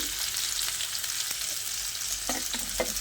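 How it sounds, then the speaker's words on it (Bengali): Potato, carrot, vegetable stems and pumpkin fry in a pan with a steady, close sizzle, while a utensil stirs and scrapes now and then. "ডাঁটা আর কুমড়োটা দিয়ে আরও 2-3 মিনিট মতো ভেজে নিয়েছি।"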